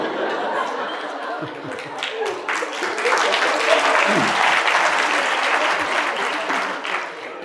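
Audience applause fills a university lecture hall in Lahore, a dense, sustained clapping that swells around the middle and holds steady, with some crowd murmur and a little laughter mixed in.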